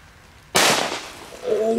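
A Superböller firecracker detonates with one sudden loud bang after a quiet moment, its crack ringing out and decaying, followed by a person's voice reacting.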